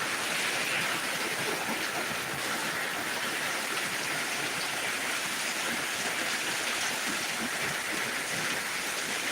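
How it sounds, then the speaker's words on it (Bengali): A heavy downpour in Dinajpur Sadar, Bangladesh, hisses in a dense, unbroken roar of rain that stays steady throughout, with no voices. "এই মুহূর্তে দিনাজপুর সদরে মুসলধারে বৃষ্টি শুরু হয়েছে"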